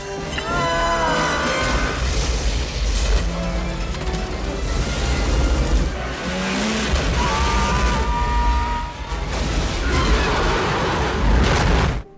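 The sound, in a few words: cruise ship exploding in the film Deep Rising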